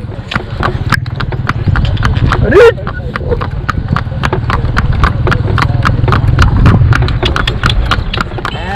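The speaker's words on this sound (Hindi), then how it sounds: "तांगे में जुता घोड़ा सड़क की ताल और पाँव में लगी लोहे की नाल से ऐसी धुन बजाता" Iron-shod hooves of a horse pulling a tanga carriage clip-clop steadily on a road, a fast even rhythm of sharp clicks close by, with a brief whinny-like cry partway through.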